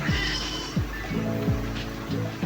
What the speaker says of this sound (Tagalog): Ang kulit ng pusa, gusto nang kumain.